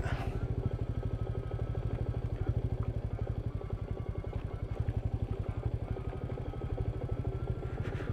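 A Royal Enfield Meteor 350 thumps steadily off-road downhill at low revs, its single-cylinder beat pulsing evenly and close throughout, with light rattles and clatter over rough ground and no talking.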